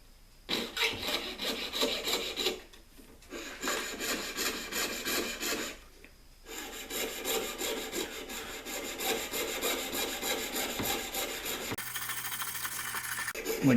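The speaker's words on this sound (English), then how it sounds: "So I'm going to cut in this yoke area, and just like this." Hand saw blade cutting through wood in the yoke area of a carved piece, with steady rhythmic back-and-forth strokes in several bursts separated by short pauses, close and fairly loud.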